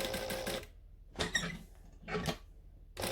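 A sewing machine stitches fabric in short bursts with pauses between them, including quick back-and-forth stitching, close and fairly loud.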